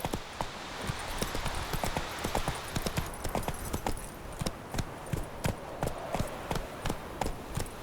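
Geralt's horse Roach clip-clops along in The Witcher 3, the hoofbeats falling in quick, regular groups of sharp knocks that carry on throughout with little else heard.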